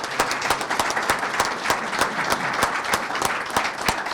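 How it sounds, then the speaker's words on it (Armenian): An audience at a football federation event applauds steadily with sharp, regular claps standing out over a dense crowd wash, sustained and fairly close. "Ես առաջարկում եմ ուղղակի բոլորս մի փոքր երկարատև ծափահարենք ու դրանով շնորհակալություն հայտնենք"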